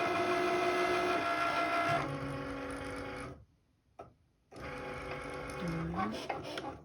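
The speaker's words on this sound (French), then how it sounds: "on clique dessus et la machine va lancer la découpe" A cutting machine cuts wooden parts for advent calendar houses, giving a steady, close mechanical whir with a tonal hum. It stops briefly, then starts again with a rising sweep.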